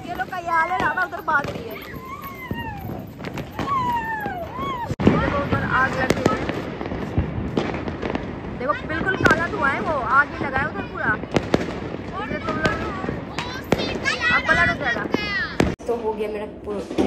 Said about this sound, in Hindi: ये देखो कितने पटाखे फोड़ रहे हैं